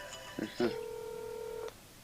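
Phone keypad tones during an online community call, a couple of short beeps followed by a steady sustained tone lasting about a second, faint and alone.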